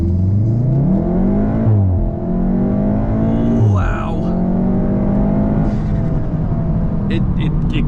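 A Volkswagen Golf R with an IE Stage 1 tune pulls away hard from a standstill on a slope. Its engine climbs loudly through the revs, then drops briefly at each upshift and climbs again, staying close and dominant throughout.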